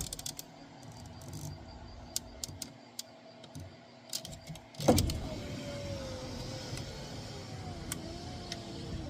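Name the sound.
truck power window rolling up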